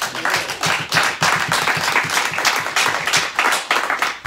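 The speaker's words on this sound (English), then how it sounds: "Everyone give the Lord a hand clap." Congregation clapping hands in church, a dense, fairly close round of applause with a loose rhythmic pulse that carries steadily for a few seconds.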